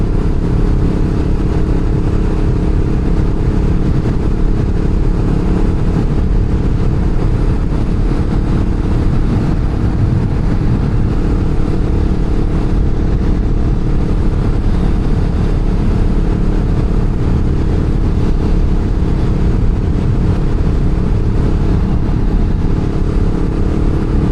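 A 2024 CFMoto CLX 700 sport motorcycle is ridden at a steady pace, its engine drone loud and constant alongside wind rush, with no voices throughout.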